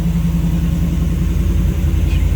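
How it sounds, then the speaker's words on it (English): A 2021 Shelby F150 Supersnake pickup with a Whipple supercharger idles close by, its exhaust putting out a steady, deep rumble with slight fluctuations and no break throughout. "He's gonna start it up for me, and they're gonna move it. Nice and subtle exhaust tone."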